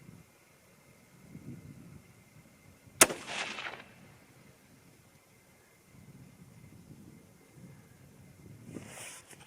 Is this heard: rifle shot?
yes